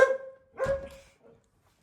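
A dog barks twice, sharp and close, followed by a faint softer yip, in an otherwise quiet space.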